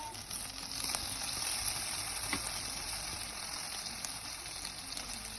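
Pieces of börek fry in oil in a pan, a steady close sizzling hiss with occasional small pops, and no voices.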